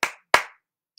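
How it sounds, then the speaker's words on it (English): Two sharp hand claps ring out close and loud with a short pause between them, each snapping quickly and then decaying, followed by silence. "I'm clapping my hands for you now."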